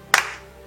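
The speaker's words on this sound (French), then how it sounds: "Ça mérite un applaudissement." A single short burst of clapping during an online drag show, a quick sharp handclap or two that decays fast into near silence.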